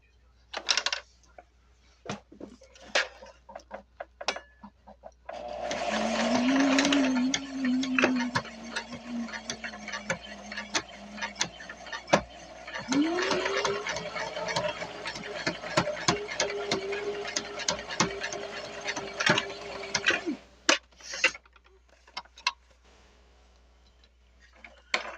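A sewing machine stitches along the folded edge of a fabric jar gripper in two long runs of steady whirring with fine mechanical ticking, separated by a short pause, with soft clicks before and after.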